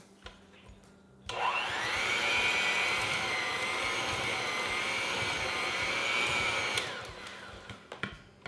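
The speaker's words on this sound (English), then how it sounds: "I'm going to use an electric mixer" Electric hand mixer beating softened cream cheese and vanilla for a pumpkin cheesecake muffin filling: a steady, loud motor whine runs unbroken for about five and a half seconds, then cuts off, leaving quiet clinks and handling.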